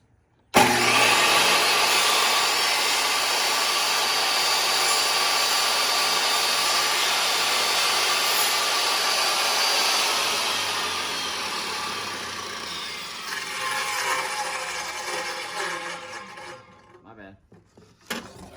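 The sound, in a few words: table saw cutting plywood to size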